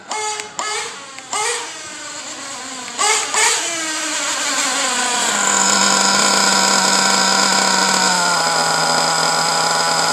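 Engine revved in a few sharp bursts, then held at high revs before slowly settling toward idle, the pitch sliding down gradually rather than dropping at once; loud and close, no talking.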